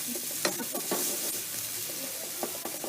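Jarred minced garlic sizzles and spits in a hot pan, a steady close frying hiss with scattered pops and the scrape of stirring.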